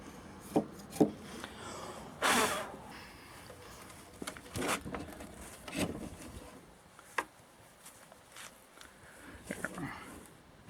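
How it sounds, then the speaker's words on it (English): A hand tool pares the thinnest shavings off a timber for a DIY raised bed, giving a scattered run of short, close scraping and shaving strokes with small knocks between them. "And pare off just the thinnest little shavings"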